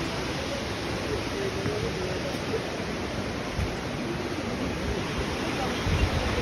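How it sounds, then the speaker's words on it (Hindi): Manthokha waterfall near Skardu, a steady broadband roar of rushing water filling the whole clip, loud and constant with no break. "हम लोग जो है मंथोका वाटरफॉल पहुँच गए"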